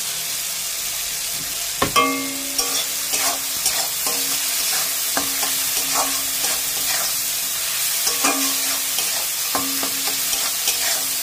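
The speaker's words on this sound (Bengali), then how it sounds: "বাদামটা দিয়েও ভালো করে নাড়িয়ে চাড়িয়ে একটু কষিয়ে নিলাম।" Fried peanuts stirred into a sizzling spice masala in a pan for a katla fish head and taro leaf dish, with a steady fry hiss broken by sharp spatula scrapes and knocks near the 2, 5, 8 and 10 second marks.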